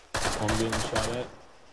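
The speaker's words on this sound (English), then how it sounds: "I'm being shot at." Arma 3 gunfire rings out in a burst of rapid shots lasting about a second, loud and close, with a broad crackling tail that fades afterward.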